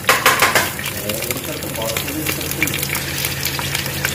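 Sliced onions hit a hot clay pot already holding green chillies for village-style pulao, giving a burst of crackling sizzle at first that settles into a steady frying hiss, with a voice talking over it.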